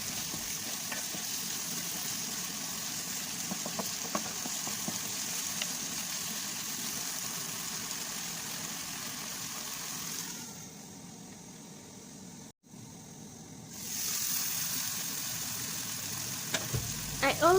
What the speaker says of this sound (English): I'm just going to add the paste and cook it for some while